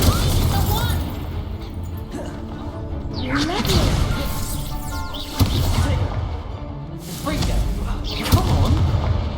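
Incendio fire spell cast repeatedly in the game Hogwarts Legacy, with fiery whooshes and bursting impacts recurring every few seconds over loud game sound and combat noise, with a voice shouting under it.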